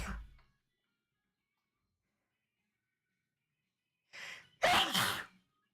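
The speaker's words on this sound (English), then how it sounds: "Gonna sneeze again, sorry." A single loud, close sneeze with a sharp inhaled build-up, set in near silence after a brief faint sound at the start.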